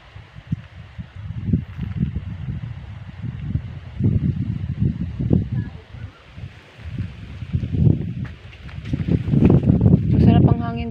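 Gusty wind on an island buffets the microphone in uneven surges, rising and falling over several seconds and building stronger near the end.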